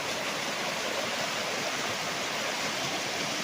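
A river beside a farm lot flows with a steady, even rush of water, moderately soft and continuous throughout, with no talking.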